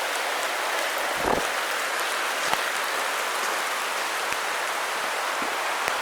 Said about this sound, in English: when you have a heavy rain like it's raining right now.